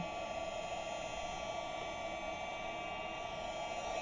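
Steady, continuous whoosh of a heat gun blowing hot air, a constant droning hiss with a faint motor whine, close and unbroken throughout.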